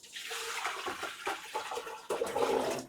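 Beetroot and carrots being washed in water for a Jamaican beetroot and carrot drink; steady splashing and running-water swish throughout, fairly close, surging louder near the end, with no talking.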